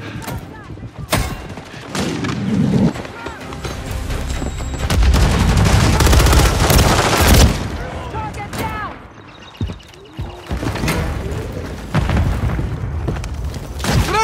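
Rapid bursts of gunfire and booms ring out in Call of Duty Modern Warfare 3 multiplayer, with loud volleys, scattered single shots and radio-style voice callouts layered between them.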